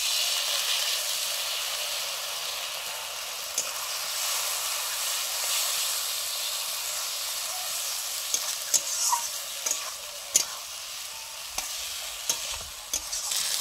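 Cumin paste with turmeric and chilli frying in a pan, giving a loud, continuous hissing sizzle, with scattered scraping stirs growing more frequent toward the end, no talking.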